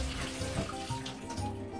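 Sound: washing olives under running tap water

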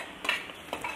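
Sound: frying mustard seeds, onion, ginger and garlic in a hot pan

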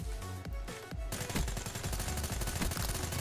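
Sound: gunfire from a gun in the video game Black Ops 3

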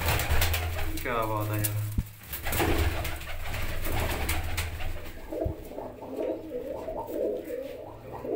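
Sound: pigeons cooing

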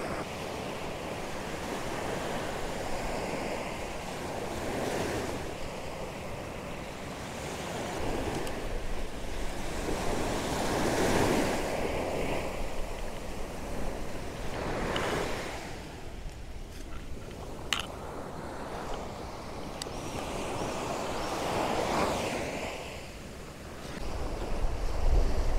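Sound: ocean waves washing up on a beach

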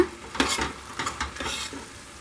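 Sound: stirring poha into tempering in a pan

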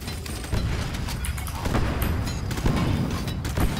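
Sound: explosions in the video game Deep Rock Galactic

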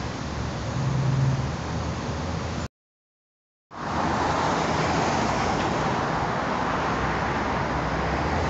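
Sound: traffic at a paid parking lot under a highway overpass

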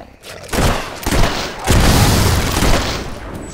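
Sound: gunfire in the video game Fable 3

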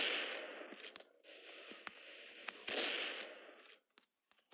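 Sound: gunfire in mobile video game Elite Strike

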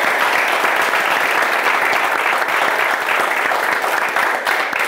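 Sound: applause for Hovhannes Ghukasyan

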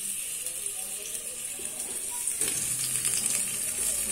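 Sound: onion frying in oil

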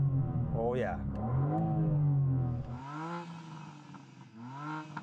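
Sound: sports car engine revving

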